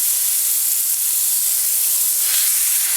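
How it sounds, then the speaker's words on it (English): A small soy-marinated steak searing in a hot pan gives a loud, steady, hissing sizzle that holds for a few seconds, close up and with no voices. "what I want to do is sear this little steak"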